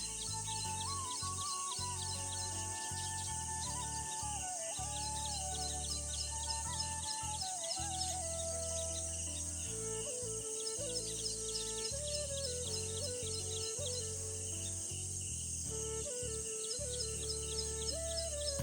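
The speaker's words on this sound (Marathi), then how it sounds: "ह्या ठिकाणी तुम्ही बघू शकताय चिमण्यांची घरटी बांधायची चालू आहे" Dense, continuous chirping and tweeting of house sparrows at their nests fills the clip, with a steady low hum running underneath.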